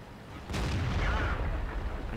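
A Centurion Mk I tank's cannon fires in World of Tanks, a sudden loud boom followed by a rumbling, sustained roar.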